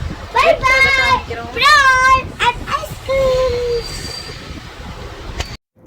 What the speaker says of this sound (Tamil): இதுதான் நாங்கள் வந்த ட்ரெயின், எர்ணாகுளம் காரைக்கால் எக்ஸ்பிரஸ்ஸு.